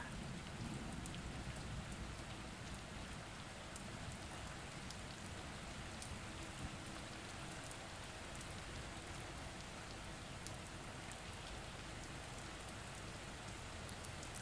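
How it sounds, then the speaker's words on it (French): Steady rain falling at night, a dense, even hiss of drops on surfaces that continues unbroken and fairly soft throughout, with no voices. "Les bruits de la pluie continuent à vous accompagner et vous bercer calmement."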